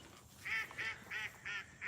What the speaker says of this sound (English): you hear the duck laughing